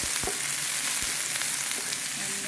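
Onion rings and red pepper matchsticks stir-frying in a hot wok, a loud, dense, continuous sizzle with a few low stirring knocks, close up and without talk.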